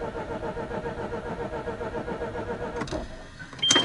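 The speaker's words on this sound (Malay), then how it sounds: "Dia agak susah nak start kan." A four-port car engine running on RON95 petrol, somewhat hard to start, cranks with a steady churning hum, then catches near the end with a louder rise in engine noise; no talk over it.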